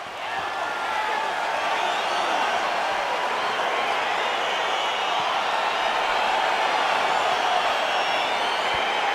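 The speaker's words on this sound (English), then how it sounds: "crowd getting excited as this fight gets underway" Arena crowd in EA Sports UFC 4 as a Paulo Costa vs Jack Hermansson fight gets underway, a broad steady roar of cheering spectators filling the space evenly throughout.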